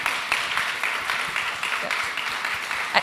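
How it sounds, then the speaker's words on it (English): Applause from a live-stream event audience: steady, moderately loud clapping with brief louder peaks, continuing through the whole short stretch. "Get a clap for that"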